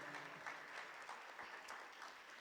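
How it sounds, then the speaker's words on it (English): Graduation ceremony audience applauding, a steady broadband patter of many hands sustained for a couple of seconds, fairly faint and distant. "Let's give another round of applause for our speaker, Dr. Dunham."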